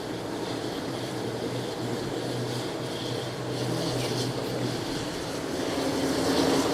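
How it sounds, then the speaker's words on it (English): Cargo aircraft at Fukuoka International Airport, a steady broadband jet roar that swells slightly louder toward the end, heard from a distance with no talking. "this is Livery, a cargo aircraft"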